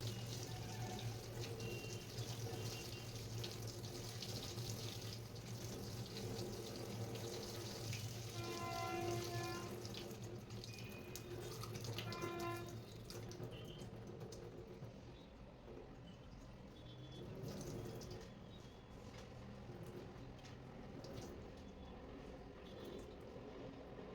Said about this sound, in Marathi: मेथीला 4-5 वेळा स्वच्छ पाण्याने धुवून घ्यायचं आहे